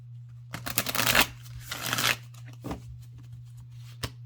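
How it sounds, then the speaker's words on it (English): A deck of oracle cards is shuffled in quick riffling bursts, two main rounds, then a few softer taps and one last sharp flick. "We're gonna shuffle these like 6 times."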